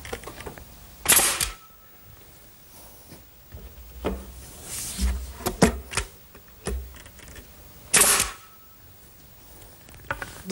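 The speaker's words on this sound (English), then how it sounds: "I'm going to start the assembly by tacking the back boards to one side" Nails are tacked into the back boards of a wooden outdoor lidded bench, with two sharp, loud hammer strikes several seconds apart and lighter knocks and handling thuds between them.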